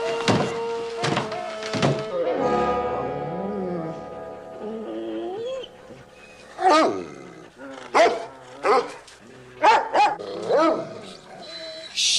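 A hound dog howls in long wavering cries, then breaks into a run of loud separate barks, with someone talking between them.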